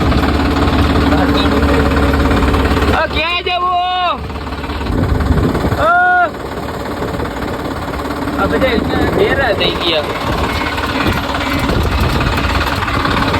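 A JCB excavator engine idles loud and steady throughout, a continuous mechanical drone with people talking over it.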